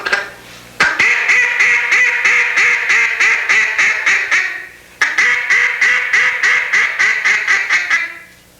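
A hand-blown duck call sounding a hail call: two long loud runs of about a dozen rhythmic quacks each, the first quacks drawn out then quickening and fading, close and clear with no talk.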